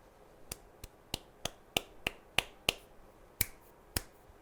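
Hand claps aimed at an LED kit's clap-activated switch, twelve or so sharp separate claps at a steady, slightly irregular pace, close and crisp in a quiet room.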